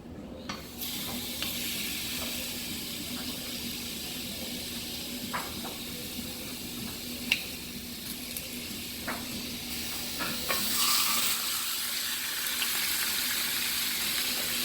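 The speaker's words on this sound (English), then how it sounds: "let's get the pork chop started on the grill" Pork chops cook on a grill, a steady close hiss of sizzling fat with scattered soft pops and clicks, getting a little louder near the end.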